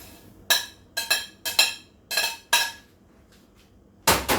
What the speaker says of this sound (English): Then I'm gonna add my frozen peas.